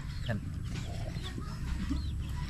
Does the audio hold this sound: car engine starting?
no